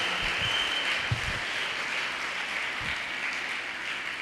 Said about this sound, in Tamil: பிரமாதமாக கைத்தட்டலாம்.